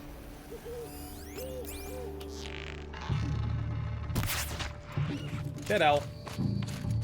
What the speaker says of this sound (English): Heard an owl.